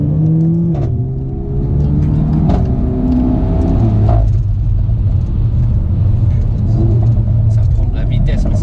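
A Renault Megane 4 RS accelerating hard, its engine note climbing through rising revs with gear changes, a loud close cabin roar under people talking.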